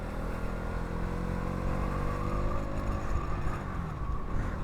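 Motorcycle riding at night on a curving forest road, a steady close engine hum and road rumble that holds even for several seconds, no speech over it.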